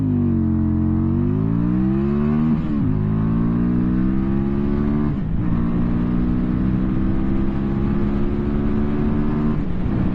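A 2023 QJ Motor SRV300 motorcycle accelerates hard from a standstill to 60, its engine note climbing steadily through several gear shifts, loud and close with no talking.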